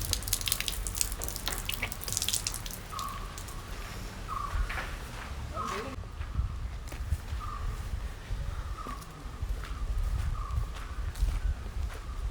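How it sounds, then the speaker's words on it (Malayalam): Water runs steadily from an outdoor pipe tap beside a house in Kerala, a soft constant rush with faint splashing and a few light footsteps around it. "കൈ കഴുകിയ പൈപ്പാണ്"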